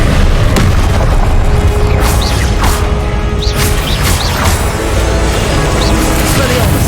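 Confringo explosive spells in Hogwarts Legacy boom loudly and continuously amid a dense battle din of blasts and magical impacts, very close and heavy throughout, with a voice calling out over it.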